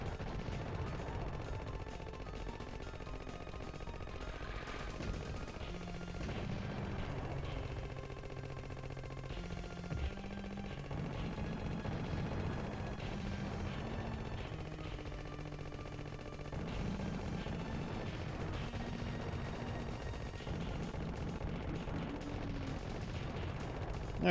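Machine gun fire in a PlayStation (PS1) video game, steady rattling bursts layered under game music and effects, continuous and moderately quiet through the whole stretch.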